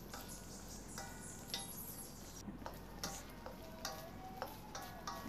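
Spice paste sautéing in a pan with galangal, kaffir lime leaves and lemongrass, a faint constant sizzle with regular soft scrapes and taps of a stirring utensil.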